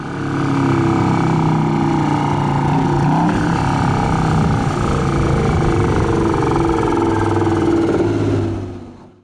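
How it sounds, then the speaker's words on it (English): A Detroit Diesel 6V92TA two-stroke V6 diesel runs loud and steady at close range, a sustained throbbing drone that holds for several seconds before cutting off abruptly. "the 6 V92 TA was loud, fast revving,"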